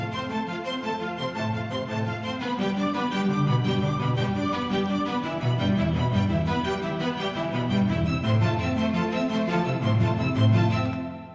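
An FL Studio orchestral arpeggio of cellos joined by a viola section, violas panned left and cellos right, flowing in a dense, steady rolling pattern that ends with a short fade.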